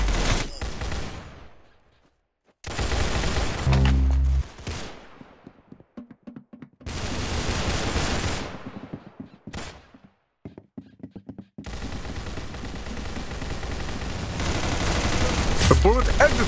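Gunfire from the Roblox-style shooter Arsenal comes in bursts of rapid shots and single loud cracks, separated by short silences, with music and game effects mixed throughout.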